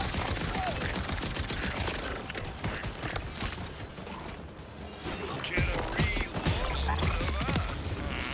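Rapid, dense automatic gunfire with mechanical clatter in Borderlands 4, firing in sustained bursts that fill the clip with loud, rattling shots and a brief lull in the middle, while a voice speaks faintly underneath.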